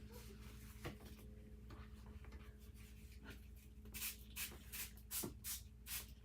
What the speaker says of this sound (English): Give it another spray to get some of those colors to move around.